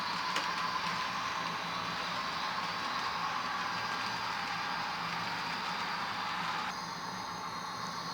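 A model railroad train rolls over track switches on its way into an auxiliary yard during an operating session, giving a steady, even rumbling hiss with no clear clicks before a slight drop in level near the end.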